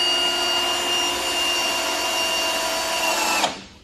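Milwaukee M18 cordless drill running a screw into wood while deer blinds are built, a steady loud whining motor drone that holds for over three seconds, then stops abruptly with a short spin-down.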